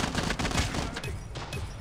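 MSMC submachine gun fire in Call of Duty Mobile multiplayer: loud, rapid bursts of automatic shots packed close together, with game effects running throughout.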